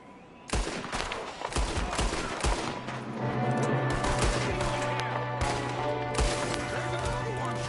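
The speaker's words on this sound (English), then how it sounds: "There's another one shooting from the window." Gunshots in a Red Dead Redemption 2 story shootout ring out, sharp separate cracks scattered over a steady background hum and rumble, some close and loud, others spaced apart.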